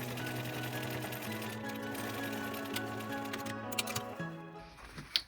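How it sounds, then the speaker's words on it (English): A sewing machine runs a 1/4 inch seam on a Densa dopp kit. It makes a steady, humming motor whir with a fast stitching rhythm, and a few sharp clicks come near the end as it slows and stops. "I'm going to sew that one with a 1/4 inch seam allowance"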